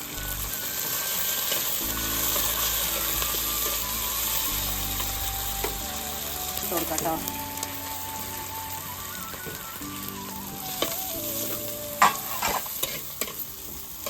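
Curry leaves and dried red chillies sizzling in hot oil for an Onam-eve dish, a steady crackling fry with spoon stirring and scraping in the pan, close and continuous, no talking.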